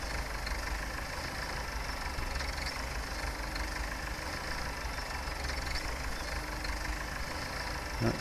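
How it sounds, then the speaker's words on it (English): A 1961 tractor engine runs steadily and fairly faintly, with a rough, uneven note from a slight misfire. It holds a constant drone throughout and no one speaks. "our tractor is missing a little bit"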